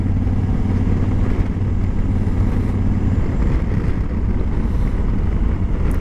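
A vehicle drives steadily along a road, its low engine rumble constant and close, mixed with heavy wind buffeting against the microphone, with no voices.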